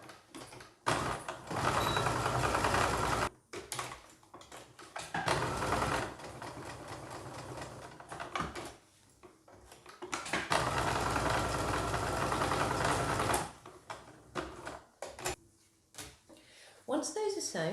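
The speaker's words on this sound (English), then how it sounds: "I'm just going to sew round the long edges of those and across one of the ends" Sewing machine stitching along the long edges and one end of denim dungaree straps cut from old jeans, in loud steady bursts separated by short pauses, with a voice talking in between.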